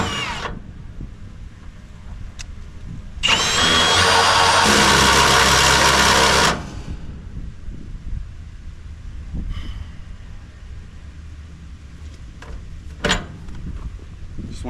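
A Milwaukee M18 Fuel cordless drill drives a NighCo jack to lower a dump trailer. One loud, close whirring burst runs about three seconds against a quiet background, with a few faint knocks afterward.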